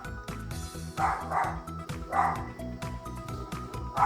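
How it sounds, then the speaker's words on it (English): A dog barks repeatedly at close range, a run of loud yips and barks over a steady low background hum. "Sorry about the dog, by the way."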